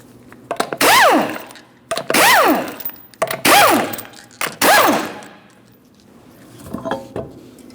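An impact gun zips off 19mm lug nuts from the rear wheel of a 2008-2016 Chrysler Town & Country 3.8L V6, four loud whirring bursts that rise and fall in pitch, each separated by short pauses, then a quieter rattle.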